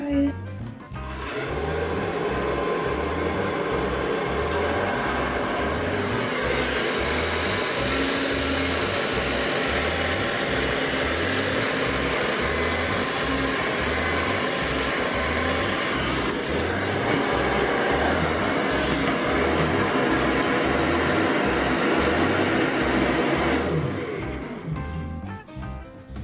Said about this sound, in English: I like to go like that and just blow dry it.